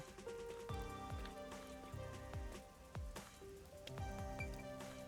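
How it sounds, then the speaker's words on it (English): Rain falls steadily in a rain-soaked city alley in the video game Master Detective Archives: Rain Code Plus, with distinct drips and drops pattering over a continuous wash, soft and ambient, with no talk. "weird how it's not flooded, given how it's always raining here"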